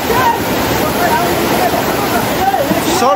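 Loud rushing water of the Sardu river at a crossing site, a constant roaring wash that stays dense and close for the whole stretch.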